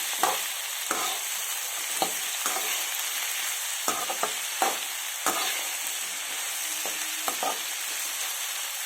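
Vegetables, including tomato, cauliflower and capsicum, fry in oil on a tawa with a continuous bright sizzle, broken by repeated scraping and stirring strokes of a spatula.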